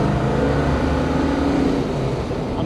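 A restored 1966 Chevrolet Biscayne with a 427 L72 V8 and 4.88 gears roars continuously as it revs and pulls hard, loud and close, with no talk.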